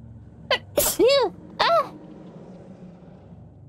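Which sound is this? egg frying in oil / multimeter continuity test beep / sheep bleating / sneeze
sneeze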